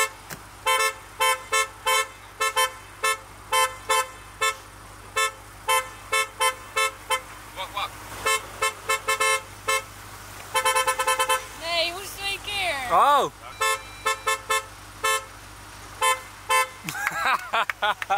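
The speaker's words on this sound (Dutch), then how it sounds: "Als ik toeter, moet je ook toeteren." Car horns honk in a long run of short, evenly spaced blasts on a family holiday drive in Germany, joined by a second horn answering, with an engine hum underneath and people talking over it.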